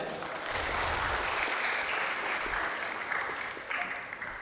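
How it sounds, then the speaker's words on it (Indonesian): An audience at the opening ceremony of a South Sumatra governor's cup chess championship applauds steadily, a dense even clapping that holds for several seconds and thins slightly toward the end. "Boleh tepuk tangannya."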